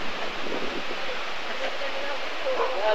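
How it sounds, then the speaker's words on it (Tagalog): Heavy rain pouring steadily as a dense, constant hiss with wind, close and loud throughout, with faint voices in the background. "Grabe, lakas ng ulan eh."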